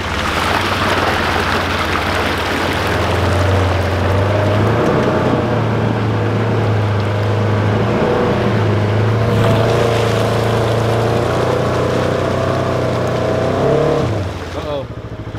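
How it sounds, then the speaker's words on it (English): A Polaris Ranger four-wheeler drives through sloppy spring-fed water and mud, its engine droning loud and close with sloshing and splashing throughout, and a voice heard briefly over it. "With his four-wheeler, Polaris Ranger should be able to get in here."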